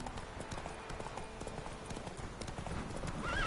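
Roach, the horse from The Witcher 3, trots with steady clip-clopping hooves throughout, with a brief whinny near the end over ambient game sound.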